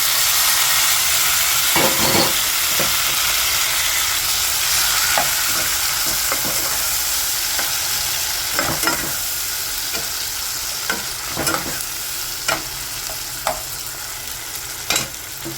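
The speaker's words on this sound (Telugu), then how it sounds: "సో ఇప్పుడు ఇవి బాగా వేగనివ్వాలండి" Onion and tomato pieces frying in a pan for a brinjal and potato curry, a steady loud sizzle with repeated scraping stirs of a spoon against the pan, close and without talk.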